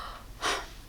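A reader's voice imitates a single short, breathy pant, a soft exhaled gasp rising briefly in a quiet room.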